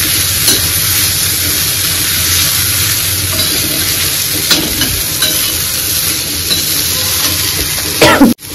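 Greens sautéing in hot oil in a pan in a home kitchen, a steady loud sizzle and hiss throughout with a few scrapes of stirring, ending in a sharp clatter as it cuts off.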